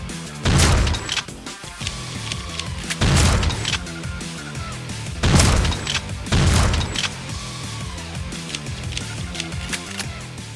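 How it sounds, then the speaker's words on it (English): Shotgun in the Roblox zombie game The Undead Coming, firing loud booming blasts at steady intervals, about four heavy shots with reload clatter and clicks between them, close and unaccompanied by talk. "In addition to the damage buff, you can now cancel the shotgun reload as you see here."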